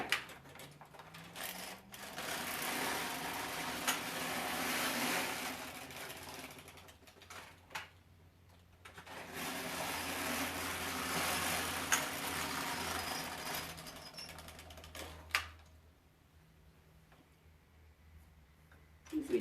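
An LK150 knitting machine carriage is pushed across the needle bed in long rattling, ticking passes. Each sweep lasts several seconds, with short quiet gaps between passes.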